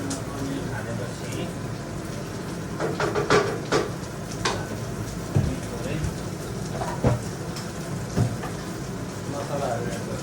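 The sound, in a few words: heavy rain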